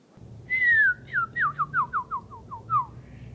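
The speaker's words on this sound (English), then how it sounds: "Words on screen. Canyon wren." A canyon wren sings at Joshua Tree National Park: one clear whistled opening note, then a cascading series of about nine short descending notes that quicken and fall in pitch. It is close and clean over faint background hiss.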